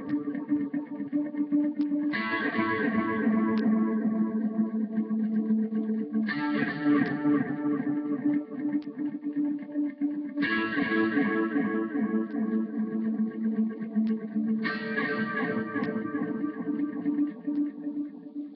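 Electric lead guitar for a worship song runs through an Electronic Nova dotted-eighth delay. A sustained melodic phrase repeats four times with echoing repeats trailing each note, played alone without talk.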